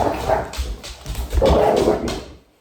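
A female dog growls loudly and close by at another dog, rumbling and snarling in uneven surges for a couple of seconds before breaking off.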